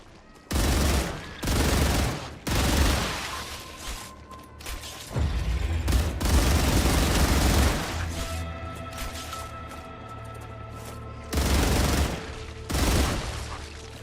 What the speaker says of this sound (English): Something is shooting at me from the other direction